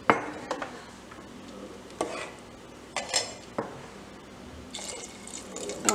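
Water is poured into a pan of pea and potato curry with wadiyan, splashing and gurgling over several seconds, with occasional clinks of a utensil against the pot and no voices.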